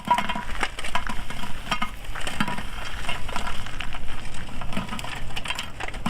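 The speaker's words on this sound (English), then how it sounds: "I can already hear it sizzling in there." Steady crackling sizzle of upside-down pizza cooking in a Dutch oven over coals, a continuous dense hiss with small pops, fairly close and with no voices.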